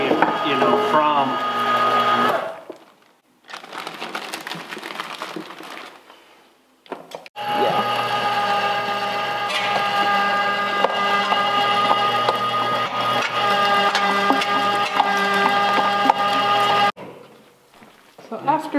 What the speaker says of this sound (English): this grinder can eat it far faster than you can feed it